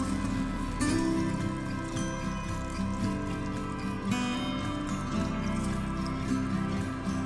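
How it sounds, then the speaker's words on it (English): Soaked rice added to boiling water and oil in a pot, a bubbling, dripping and squishing wash of liquid close by, with a louder splash at about one second and another at four; no voices. "When the water and oil boil,"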